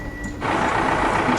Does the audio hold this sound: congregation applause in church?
no